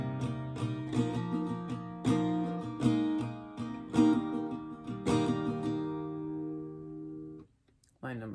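Close, clear acoustic guitar strumming the second chorus line of a song, live version, with rhythmic chord strokes and ringing chords that die away into a brief pause before a faint final touch.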